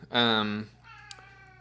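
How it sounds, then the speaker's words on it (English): A house cat gives one loud, close, drawn-out meow lasting about half a second. A faint, softer tonal trail follows over quiet room tone. "That's our cat Watson."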